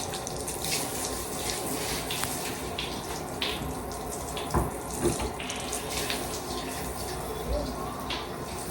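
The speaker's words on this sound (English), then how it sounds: "I'm about to rinse these off before I start cleaning the toilet" Cold tap water runs steadily into a sink while bathroom cleaning items are rinsed before the toilet is cleaned, a close, continuous splashing flow with a few clunks of handling mixed in.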